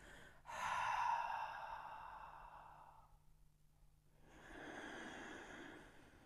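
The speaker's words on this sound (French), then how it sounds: "expire tout par la bouche" A long, full exhale through the mouth during a calming breathing exercise, soft and close, with a breathy rush that fades out, followed after a pause by another gentle breath.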